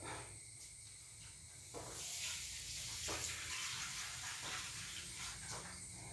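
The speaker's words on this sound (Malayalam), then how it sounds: "നമുക്ക് ഇതിലേക്ക് ലേശം വെള്ളം ഒഴിക്കാം" Water poured into a cooking pot of spicy jackfruit seed and taro curry, a soft, steady splashing hiss that swells and eases in waves, close and fairly quiet, no talk.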